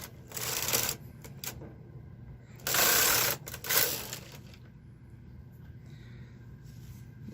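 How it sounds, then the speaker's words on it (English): A domestic knitting machine carriage sweeps across a row of a 9mm sock, giving two loud mechanical rattling passes, each about a second long, over a steady low hum. "I'm going to knit across and finish the center one"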